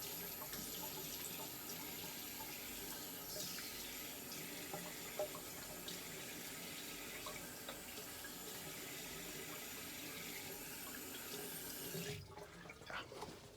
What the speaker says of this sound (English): I'm going to rinse down here.